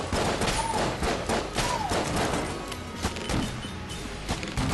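Enemy gunfire in the video game Enter the Gungeon, rapid overlapping shots and impacts firing in dense bursts, loud and continuous with brief chirping whistles mixed in.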